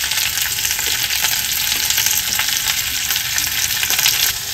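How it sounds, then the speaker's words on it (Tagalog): Garlic, onion and ginger sizzle and fry in hot oil in a small pot, a loud, continuous crackling hiss with occasional stirring scrapes. "Pagkatapos po natin mahirapang igisa ang bawang, sibuyas at luya sa maliit na kaldero"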